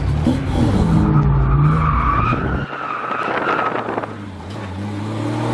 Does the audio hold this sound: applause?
no